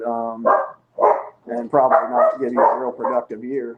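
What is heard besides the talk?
dogs barking indoors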